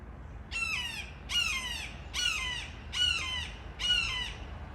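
Loud harsh bird squawks, five of them in a steady rhythm about a second apart, close by.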